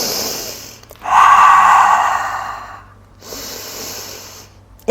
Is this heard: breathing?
yes